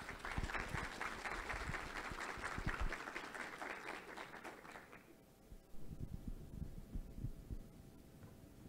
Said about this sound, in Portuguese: vamos recebê-lo com muitas palmas